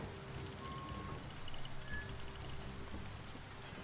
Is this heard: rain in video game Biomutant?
yes